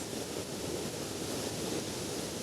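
A waterfall near Mersin roars as a dense, constant rush of falling water, loud and unbroken with no voices.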